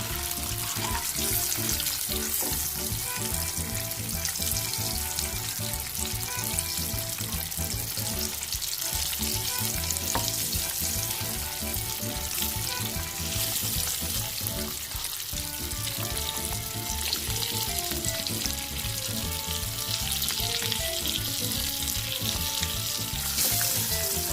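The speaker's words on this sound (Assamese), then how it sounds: "ৰঙচুৱাকৈ ভাজি ল'ম এনেকৈ।" Steady, crackling sizzle of eggs frying in a hot pan, continuous and close, with occasional stirring scrapes.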